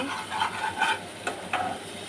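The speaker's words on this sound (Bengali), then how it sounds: "এদিকে এঁচড়ের জন্য মশলাটা কষাচ্ছি" A spice paste of onion, tomato, ginger, green chilli, turmeric, cumin, coriander and chilli powder sizzles in a pan for jackfruit curry, with a soft steady fry broken by several scraping stir strokes.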